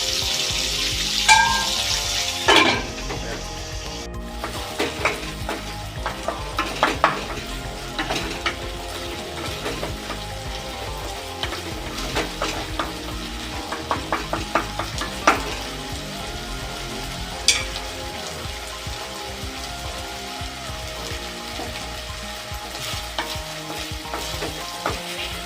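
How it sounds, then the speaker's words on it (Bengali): Ginger, onion, curry leaves, dried chilli and bay leaf fry in a pan for a Bhola fish kalia, giving a steady close sizzle broken by repeated spatula scrapes and clinks, with no talking. "আদা, পেঁয়াজ, কারি পাতা, শুকনো লঙ্কা, তেজপাতা সব দিয়ে দেখুন এটা ভাজা ভাজা হয়ে গেছে"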